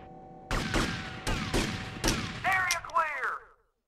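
A rapid series of sharp gunshots in Grand Theft Auto: Vice City, close and loud, ending with a few ringing, whistling tails before cutting to silence.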